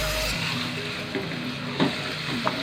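Meat frying in a karahi for chicken karahi with black pepper and butter, a steady close hiss of sizzling oil with a few scraping stirs and soft clinks, no talking.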